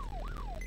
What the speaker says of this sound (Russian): у нас сирена сработала